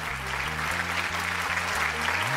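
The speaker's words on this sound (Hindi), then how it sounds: "तालियां बजाएं भाई, तालियां" Studio audience applause on a Ramadan special game show, a steady dense wash of clapping throughout, with low sustained musical tones underneath.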